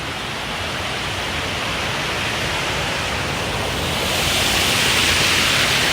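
Water rushing at a dam, a dense continuous roar that swells slightly louder toward the end, heard close and steady with no voices.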